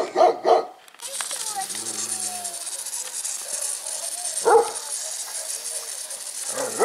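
A dog barks a few times indoors at a small child's birthday gathering, the sharp barks close and loud early on, with a rattle and people talking in between.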